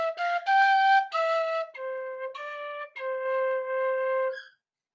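A tin whistle plays a short phrase of When the Saints Go Marching In, a run of distinct sustained notes stepping down and back, clear and close with no talk.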